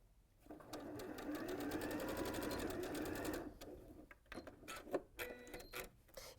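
A sewing machine stitches a pleated fabric bag in a steady, fast run of close needle strokes for about three seconds, then stops, leaving brief handling clicks and rustles nearby.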